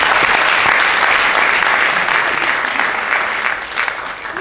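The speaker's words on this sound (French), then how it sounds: "Vous pouvez l'applaudir" An audience at an improv theatre festival in Paris applauds a performer, a loud, dense wash of clapping that stays full and steady, then eases slightly near the end.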